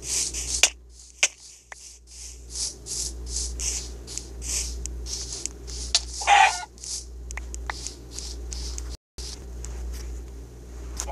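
Chickens cluck repeatedly in the Minecraft video game, a series of short bright bursts over a steady low game hum, with a louder squawk midway and no talking.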